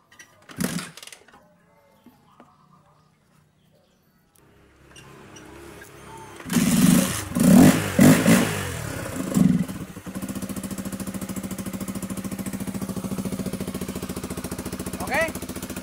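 A Honda CBR motorcycle with an electrical fault is kick-started after a few soft clunks and brief silence, then fires with a burst of loud sputtering revs before settling into a steady, close idle.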